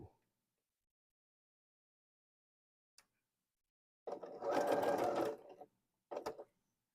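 A sewing machine stitches a foundation paper pieced quilt block in a short close whirring run of about one and a half seconds, then a brief second burst, after a couple of faint clicks.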